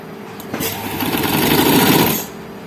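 A sewing machine stitching a frock starts up and runs in a fast, even mechanical rattle for about two seconds, close and loud, then stops, with no talk.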